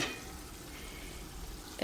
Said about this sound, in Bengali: এই যে দেখেন কি রান্না করছি মাংস কষানো হচ্ছে